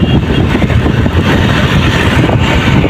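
Loud, constant rumble of engines and passing vehicles on a city road near a petrol pump, a dense roar of road traffic close by with no voices.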